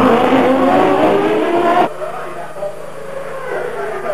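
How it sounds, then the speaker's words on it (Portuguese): A McLaren Formula One car races at the Adelaide Grand Prix, its loud high engine whine roaring past close and then cutting off abruptly, with a commentator talking over it. "Aí vem Senna, sua última volta na McLaren"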